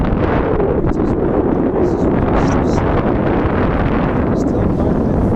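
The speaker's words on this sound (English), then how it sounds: "quite a bit of wind, but it's going down quite a bit" Steady, loud wind blowing over the microphone at sea aboard a sailboat on an upwind passage from Panama to Jamaica, a continuous roaring rush with faint higher whistles throughout.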